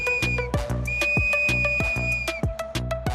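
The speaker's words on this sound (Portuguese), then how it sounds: "Quando um apita, o outro apita e a bicicleta está descendo" Track marshals at a bicycle race blow whistles in rapid repeated pulsing blasts over a steady tone, close and loud, with no talking.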